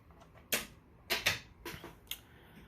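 Keystrokes on a computer keyboard while entering railroad car card details: a sparse run of about six separate, crisp clicks, close and moderately loud, with no talking.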